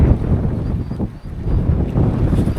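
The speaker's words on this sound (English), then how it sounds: "Bloody hell, the wind is fresh." Strong wind buffets the microphone aboard a small fishing boat at sea off the coast, loud rumbling gusts rising and easing in waves, with faint sloshing water beneath and no voices.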